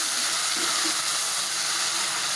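Water hits browned onion, garlic and ginger paste frying in a pan for turnip curry, giving a steady close hiss and sizzle throughout with no talk.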